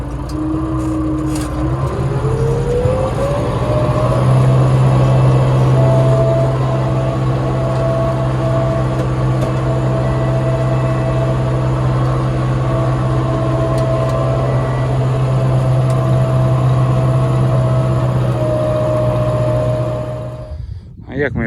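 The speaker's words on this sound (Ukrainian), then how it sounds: "Другий раз трактором проходимо і бризкаємо, чим сою бризкали." A tractor drives through a field of soy while spraying, its engine a steady, loud drone with a constant hum that shifts pitch early on and runs unbroken for about twenty seconds before dropping off.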